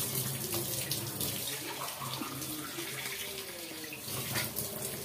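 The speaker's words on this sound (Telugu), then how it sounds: "ఈ గ్లాస్ ప్రకారమే 4 గ్లాసులు వాటర్ వేసుకుందామండి మనం." Water is poured from a glass into a pan for making upma, a steady close splashing stream that runs almost continuously, with no one talking.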